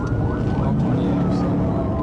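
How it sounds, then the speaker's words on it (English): A police motorcycle siren wails during a high-speed chase, a steady warbling tone over engine and road noise, with a narrator talking over it. "the trooper hit the gas, lights and sirens on, and quickly closed the gap"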